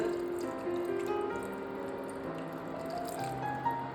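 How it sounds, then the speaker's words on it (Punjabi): A cup of water pours steadily into a cooking pot, a continuous splashing, bubbling flow with no voices, close by. "1 ਕੱਪ ਪਾਵਾਂਗੇ ਜੀ ਆਪਾਂ ਇਹਦੇ ਵਿੱਚ ਪਾਣੀ ਦਾ"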